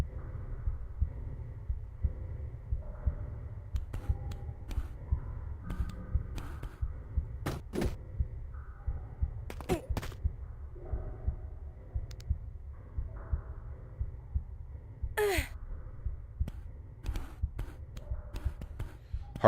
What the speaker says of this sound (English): Heartbeats are a staple of horror games, though, aren't they?